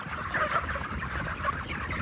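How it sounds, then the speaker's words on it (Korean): Broiler chickens in a poultry house clucking and murmuring in a dense, continuous chorus, close and moderately loud, with no other sounds over it. "목소리도 아주 우렁차고 닭들이 아주 좋아요."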